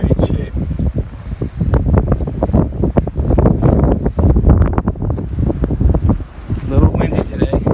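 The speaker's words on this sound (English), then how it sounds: "A little windy today." Strong outdoor wind buffets the microphone steadily at a junkyard of old abandoned cars, a rough, roaring rumble that swells and dips throughout.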